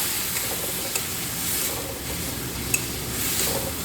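Onion-garlic paste, salt and turmeric being stirred in a pan for a Katla fish curry, giving a steady broadband sizzle with soft scraping strokes and a few light utensil clinks, close and continuous with no talk.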